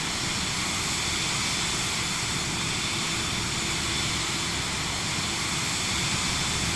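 A Vision Jet climbs out in Microsoft Flight Simulator 2024, its engine a steady, unbroken broadband roar that stays loud and even throughout.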